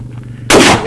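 A single loud shotgun blast cracks out suddenly after a quiet moment, then decays over a short, noisy tail.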